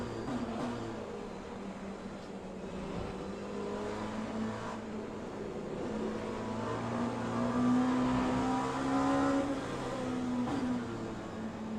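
Race car engine in the sim racing game Le Mans Ultimate during an online race, a continuous droning hum that rises and falls in pitch as the car accelerates and shifts, with no talking.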